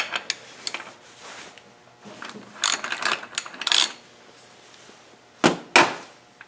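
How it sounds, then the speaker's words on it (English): A 30mm socket wrench loosening the wheel lock nut on a bicycle, a series of sharp ratcheting clicks and metallic clacks in irregular bursts, close and fairly quiet between strokes. "I'm going to take a 30mm socket and remove this lock nut"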